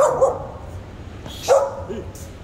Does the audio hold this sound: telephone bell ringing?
no